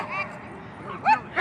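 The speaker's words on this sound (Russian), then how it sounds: "Там есть маленькие собачки у нашей знакомой, и вот с ними мы играем" Small dogs barking and yipping at a park dog run in Anchorage, Alaska, with a couple of short bursts of yaps close by over a quiet background.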